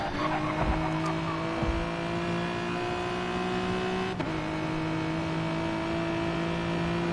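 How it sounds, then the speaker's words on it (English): A Genesis GT3 race car engine revving high in a racing video game on the Tokyo South Inner Loop, a steady droning whine with a brief shift blip midway, heard alone without talk. "Revving that little Genesis all the way up"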